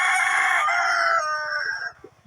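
Roosters and hens at a village home where poultry and pigeons are kept: a loud, close rooster crow fills nearly two seconds, tapering off with softer clucking at the end.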